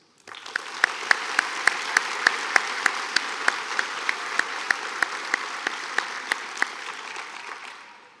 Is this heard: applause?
yes